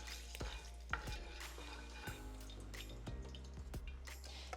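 Green cardamom pods, star anise and aniseed blooming in hot ghee give a steady close sizzle, broken by several sharp stirring clacks and scrapes of a utensil against the pot.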